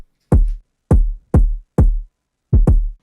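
Kick drum pattern built from two layered kicks from a drum kit, one bright and one dull: a few deep, punchy thumps spaced apart with a quick double hit near the end, loud and dry against silence.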